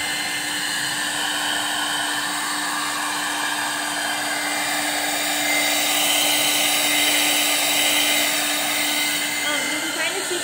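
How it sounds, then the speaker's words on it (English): Hair dryer blowing ducks dry after a bath as treatment for frostbite, a steady close whooshing hum with a constant motor whine, running continuously and slightly louder midway. "It's blow dry time! After a nice bath,"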